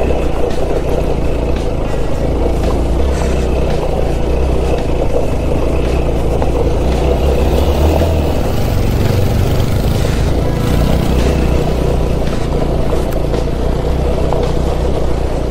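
Steady, loud vehicle engine drone climbing a steep hill road up to the sunset point in Dandoba Hills near Sangli, a continuous low rumble throughout with wind and rattling, no talk.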